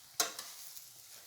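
Food stirred in a hot pan on high heat while making a turkey dish, a sharp scrape at the start followed by a soft steady sizzle with a couple of faint stirring knocks, close and quiet, no talking.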